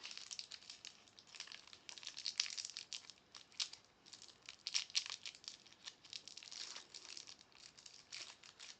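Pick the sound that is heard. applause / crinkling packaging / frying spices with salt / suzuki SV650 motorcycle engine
crinkling packaging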